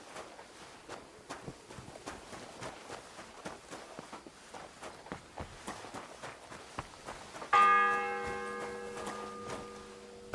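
A church bell in the medieval game Kingdom Come: Deliverance II strikes once at about the seven-second mark, then its ringing tone hangs and slowly fades over repeated footsteps.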